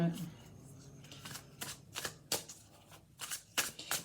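A deck of tarot cards being shuffled by hand, a run of crisp riffling bursts close to the microphone, irregular and quick, with quiet pauses between them.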